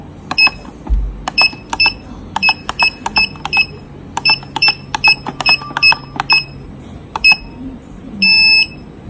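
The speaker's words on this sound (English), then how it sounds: "you will hear a long beep from the device, indicates that the adding procedure is actually successful" A Mesilix XAC-MSL223 access reader being set up as an in-out reader gives a rapid run of short, sharp electronic beeps from keypad presses, then one longer confirmation beep near the end. The beeps are loud and close, with no speech.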